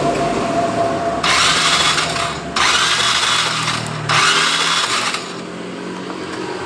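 A Yamaha Mio Sporty scooter engine is cranked three times in a row while its ignition is checked. Each loud whirring burst lasts about a second, with short pauses between them and a steady background whine.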